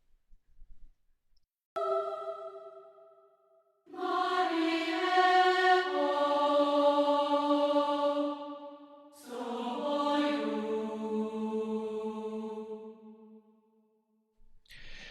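A Soundiron Olympus choir sample patch plays two layered choral phrases, sustained sung vowels swelling and fading alone with no other sounds.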